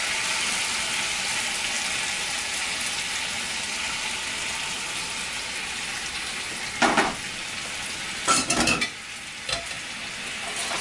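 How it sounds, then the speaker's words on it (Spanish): Pineapple sauce fries in a pan with a continuous hiss, then several loud clattering bursts of stirring and scraping near the end, close and clear with no talk. "La salsa la tengo terminada y la voy a poner en la sartén aquí."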